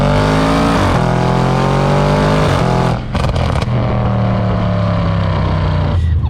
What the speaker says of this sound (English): that's how you get all the snaps and crackles and pops